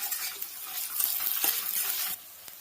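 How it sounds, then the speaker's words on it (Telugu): Ginger paste fries in hot oil with a bright, crackling sizzle, stirred along with a few scraping touches of a spoon against the pan, close and fairly loud. "ఇదైతే మంచిగా వేగుతుందండి"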